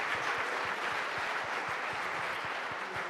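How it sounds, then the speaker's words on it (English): Moderately loud applause from a conference audience after a CEO panel speaker from the pizza business, with individual claps distinct in a steady, even patter and no speech over it. "Clap it up for him once again."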